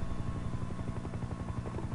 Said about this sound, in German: Heli im Anflug auf 6:31